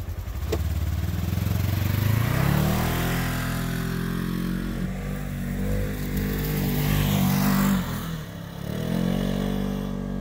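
A 2020 Polaris Ranger Crew XP 1000 NorthStar Edition utility vehicle driving off-road in rear-wheel drive, a loud engine rumbling and revving up and down through the clip.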